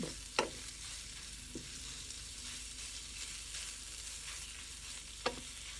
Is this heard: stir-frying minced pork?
yes